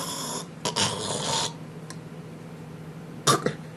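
A voice imitates sleep apnea snoring, with a rough snoring snort, a pause as if breathing has stopped, then a sudden gasping snort near the end.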